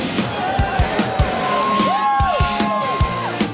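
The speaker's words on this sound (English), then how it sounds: "The crowd is building for the Jackal show" A crowd at the Full Throttle Saloon whoops, yells and shouts ahead of the Jackal show, with loud whistle-like calls rising and falling and rhythmic thumps underneath.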